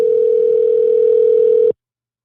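A steady electronic telephone line ringing tone holds at one pitch for under two seconds, then cuts off abruptly into silence.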